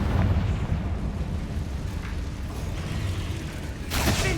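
Confringo spell blasting a barricade in Hogwarts Legacy, a sustained rumbling roar over steady game ambience, ending in a sharp burst near the close.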